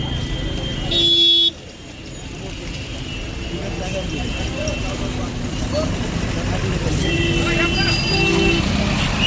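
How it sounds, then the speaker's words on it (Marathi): Traffic jammed on a road near Pimpalgaon after a serious crash involving a Scorpio SUV, with a loud burst of car horn honking early on, then a steady roadway rumble and further scattered toots, faint voices in the background. "खूप मोठी अशी ट्रॅफिक जाम झालेली आहे"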